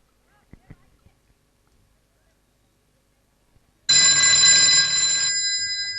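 A telephone rings loudly and continuously on stage during a school annual function play, cutting in suddenly after a few soft knocks and near silence.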